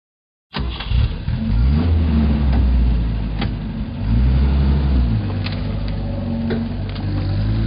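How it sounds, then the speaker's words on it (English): A four-by-four vehicle engine runs loudly and steadily, with repeated rises and falls in pitch as it revs, close up and continuous for several seconds. "Four by four."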